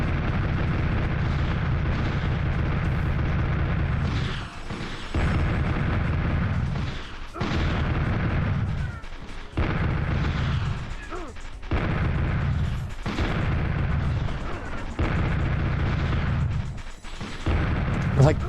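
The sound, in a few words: gunfire and explosions in PlayStation video game Army Men: Green Rogue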